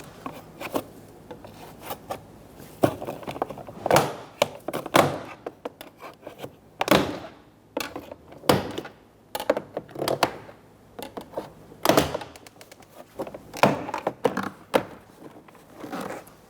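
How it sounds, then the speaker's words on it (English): A plastic trim tool pries around a 2014-2018 Chevrolet Silverado 1500 rear door panel, giving scattered sharp pops and rubbing scrapes at close range, with irregular pauses between clips. "Using a trim tool, we're going to go around popping all the clips."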